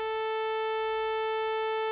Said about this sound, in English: our sine wave shape starts to skew over to the left and to develop sharp edges, and ends up pretty close to a sawtooth